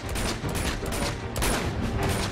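Blind-fire gunfire from the video game Uncharted 2, a dense, continuous rattle of shots and impacts running the whole moment at steady loudness, with no talking over it.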